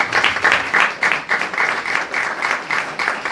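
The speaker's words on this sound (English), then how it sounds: "Can we please clap for me?" A small audience at an African education center event claps in a rhythmic, fairly close round, with a few voices mixed in.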